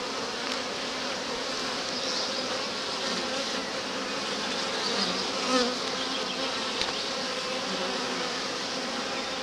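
Honey bees buzz in a dense, continuous drone at an open hive, close by and steady throughout, with no talking.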